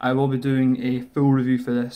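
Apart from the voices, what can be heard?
No everyday noise stands out behind the speech.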